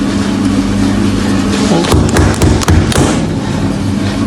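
Doughnut dough banged and slapped onto a work surface, a few heavy thuds clustered near the middle over steady background hum.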